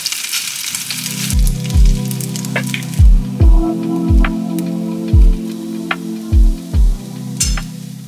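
Egg fried rice with lotus root sizzling in a hot pan, a steady loud fry punctuated by about a dozen rhythmic scraping stirs of the spatula, with no talking.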